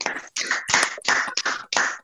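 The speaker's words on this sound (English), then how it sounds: "we can all clap now and see if you can hear it" Audience members on a video call clap together, a brisk run of close, sharp hand claps in quick irregular bursts with short gaps, slightly clipped and uneven as if passed through call audio.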